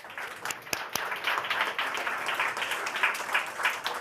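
Audience applause at a climate action summit in London, a steady wash of many hands clapping in a hall, moderately loud throughout with a few sharper individual claps near the start.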